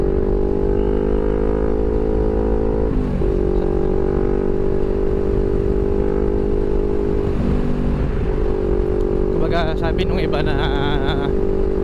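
A 2021 CFMOTO NK400 motorcycle engine while riding: a loud, steady droning hum whose pitch shifts slightly as the throttle changes, close and constant throughout, with a voice speaking over it.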